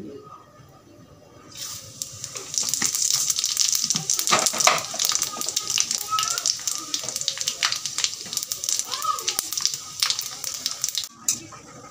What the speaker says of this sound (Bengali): পাঁচ ফোড়ন দিয়ে দিচ্ছি